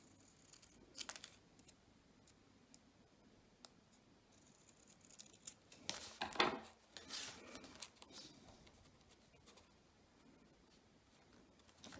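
Scissors trim a paper collage with a few faint, scattered snips and rustles, then a louder cluster of cutting and paper handling near the middle.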